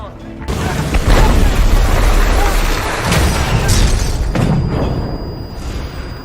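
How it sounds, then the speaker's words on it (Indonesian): A massive oil rig explosion bursts into a sustained, deep rumbling roar that rolls on for several seconds before tapering off. "sebuah ledakan di pengeboran tersebut terjadi."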